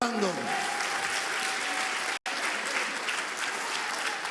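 A church congregation claps during a Spanish-language sermon, filling the space with continuous applause. A voice starts out on top of the clapping, and the sound cuts out for a moment partway through.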